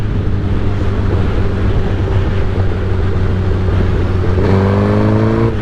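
A motorcycle engine running rough at low RPM, a steady loud drone with uneven stuttering and lag, then rising pitch as it revs toward the end.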